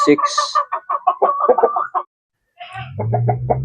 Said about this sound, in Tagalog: so ito po yung ating Japanese Tanaka na hen